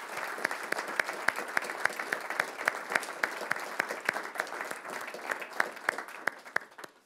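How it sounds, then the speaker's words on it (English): Sustained audience applause after a foreign minister's speech at a conference on the euro and Europe's future, steady dense clapping from a large crowd filling the whole stretch with no voices over it. "as you can see from the round of applause that you received"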